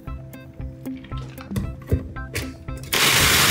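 A blender starts up to blend a non-alcoholic piña colada of pineapple juice, cream and rum extract, with a loud steady roar in the final half second, after clinking and knocking of ingredients and kitchenware.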